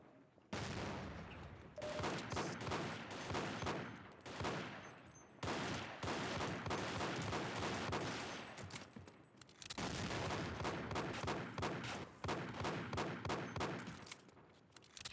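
Loud bursts of gunfire in Half-Life: Echoes, shotgun blasts and sustained firing in long dense stretches broken by a few brief pauses.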